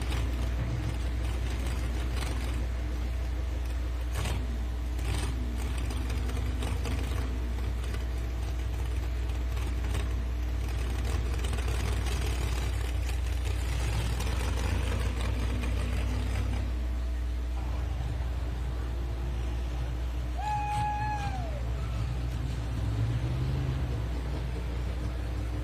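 A pulling tractor at the Super National truck and tractor pull in Bowling Green, Ohio, its engine roaring at full throttle in a loud, continuous drone with mechanical rattling, heard from a distance across the track.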